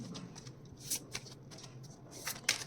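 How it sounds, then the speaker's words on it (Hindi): A deck of self-care oracle cards being shuffled, several quick papery riffles and slides in short bursts, close and fairly soft, with no voices. "Let's shuffle again."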